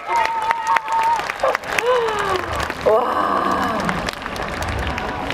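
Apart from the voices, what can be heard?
concert audience applause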